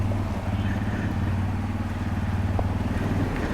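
A motorcycle engine drones steadily while riding through flooded Dhaka streets in heavy rain, a continuous low rumble with rhythmic chugging and splashing clatter, close and loud throughout.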